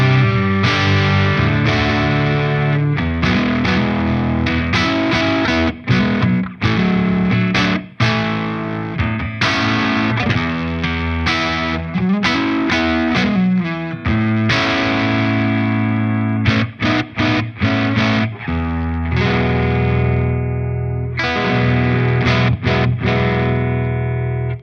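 An electric guitar on a single-coil pickup setting runs through a Friedman IR-X twin-channel high-voltage valve preamp, playing heavily distorted chords and riffs that ring out loud and sustained, broken by a few brief pauses.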